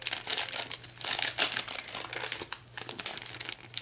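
Crinkly plastic wrapping on sticker kit packs is handled and opened up close, with continuous rustling and crumpling and a few sharper tearing bursts, no talking.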